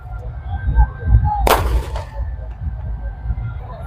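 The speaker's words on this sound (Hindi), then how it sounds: "ये धीरे धीरे करके देखेंगे कि ये पटाखों के बीच रावण दहन जो है वो हो रहा है।" Firecrackers burst during a Ravan effigy burning at a Vijayadashami festival in Amarkantak, one loud sharp crackling blast in the middle over a murmuring outdoor crowd and low rumble.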